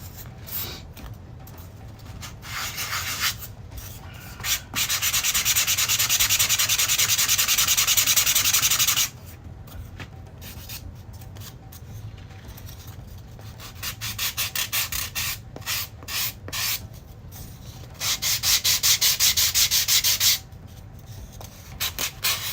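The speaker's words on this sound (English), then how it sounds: "So this piece needs to be sanded down and drilled out." Sandpaper rasps against a piece from a dungeon terrain set in long, loud, steady strokes and shorter scrubbing bursts, with brief pauses between passes and nobody speaking.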